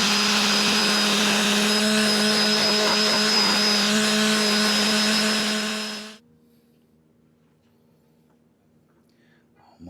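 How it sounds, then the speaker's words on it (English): An orbital sander with 120-grit paper smooths a wooden Japanese knife handle aboard a boat, a loud steady whirring for about six seconds that then cuts off into near silence. "Next, I'm gonna use the orbital with 120 grit,"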